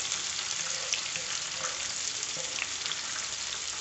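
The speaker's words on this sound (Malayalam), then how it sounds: "ഇതൊന്ന് നമുക്ക് പതുക്കെ ഫ്രൈ ചെയ്തെടുക്കാം" Two small onions frying gently in oil with a steady, even sizzle and faint crackles throughout, close and moderately quiet, with no talking.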